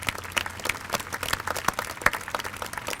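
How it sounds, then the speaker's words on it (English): A graduation audience claps in a brief burst of applause, scattered sharp hand claps close and irregular over a softer crowd wash. "Please give them another nice round of applause."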